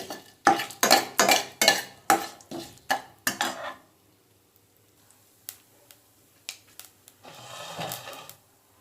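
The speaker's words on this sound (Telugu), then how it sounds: "ఇంగువ వేసుకోండి కొంచెం ఇంగువ ఇవన్నీ కలిపి దోరగా వేయించుకోండి" A metal spoon stirs and scrapes a tempering with asafoetida frying in a pan, giving a quick run of loud clanks followed by sparse taps and a soft sizzling stretch near the end.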